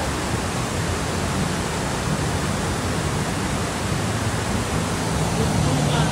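Lintungan waterfall in Barangay Runruno, Quezon, Nueva Vizcaya, roaring as a steady, dense broadband rush of falling water that holds loud and unchanging throughout, with no clear voices over it.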